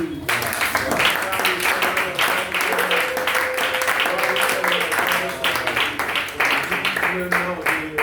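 A church congregation applauds and cheers for Jesus during a French-language worship service, with steady loud clapping and voices filling the room for several seconds.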